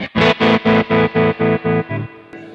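An electric guitar chord runs through a tremolo effect with spring reverb on a Kemper Profiler, pulsing in about eight even, rhythmic throbs before fading into a reverb tail, close and clear with no voices.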